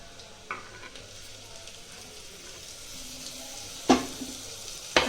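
Onions and tomatoes fry in a pan for a home-style chicken curry, giving a steady, soft sizzle with a few sharp utensil clinks against the pan.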